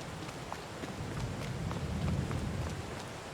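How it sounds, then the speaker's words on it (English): Steady rain hisses continuously over a Farming Simulator 22 farm, a dense, even patter with faint scattered drops and no talking. "I can't do nothing about the rain."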